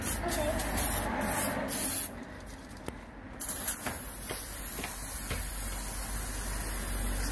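Cleaner hisses from a spray can onto an Audi A4 B6 1.8T quattro engine in several short bursts, close up over a low background rumble.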